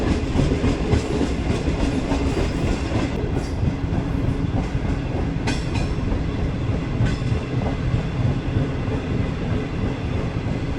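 Green Line Express passenger train running steadily on rails as it enters a junction, with a continuous loud rumble and wheel clatter heard from on board, no talking.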